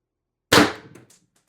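An X-68 airgun fires a single 7.3g aluminum shot, one sharp loud crack that decays quickly into a brief clatter, followed by silence.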